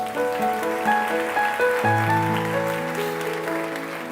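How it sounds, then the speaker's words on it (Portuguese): A church congregation claps in praise of Jesus, a steady wash of hands blended with sustained keyboard chords playing throughout, moderately loud and continuous. "Você pode aplaudir Jesus?"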